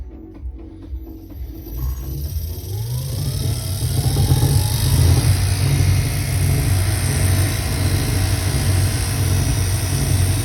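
A repaired heater-fan electric motor from a Skoda, with a faulty commutator, spins up from a whir to a loud, steady running whine and hum, with a fine rattling knock under it, close up.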